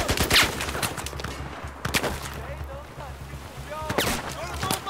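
Battlefield 4 video game gunfire: several sharp bursts of shots, near and fairly loud, mixed with game effects and a steady low engine-like drone.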